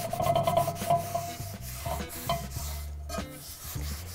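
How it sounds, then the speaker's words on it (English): The scrubby side of a sponge works cleaner over an enameled cast iron skillet, making close, continuous rubbing and scraping strokes in an uneven rhythm. "I am using some elbow grease to work this product in. And I'm using the scrubby side of my sponge."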